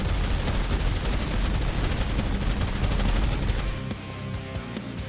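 Rapid video game gunfire from shooting an enemy through a wall in Bloodkill, a dense run of loud, close shots lasting several seconds before cutting off into quieter game ambience.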